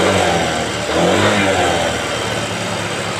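A Yamaha Mio 125 scooter with a stumbling, hesitant throttle response runs loudly nearby, its engine humming and rising briefly as the throttle is opened, with someone talking over it.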